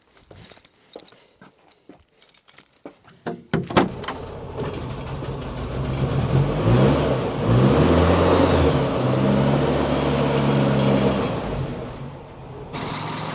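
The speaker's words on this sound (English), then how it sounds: "just gonna fire it up and see if it starts" A Land Rover Series 3 engine cranks with a few short clicks and catches on the ignition coil. It then settles into a loud, steady idle nearby that carries on to the end.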